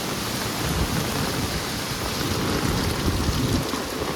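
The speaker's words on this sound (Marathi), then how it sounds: "आता पाऊस जोरात पडत चालू झालेलो असा" Heavy monsoon rain in Mumbai pours down steadily as a dense, even hiss, loud and constant, with no voices.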